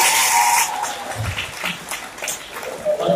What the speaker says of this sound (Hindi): फिर आपकी तालियां चाहता हूँ